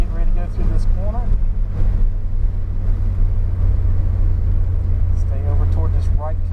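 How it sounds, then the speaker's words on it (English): A Porsche on a race track accelerates over a hill, a loud steady low engine rumble with bursts of speech over it from inside the car. "Accelerating over the hill on the right."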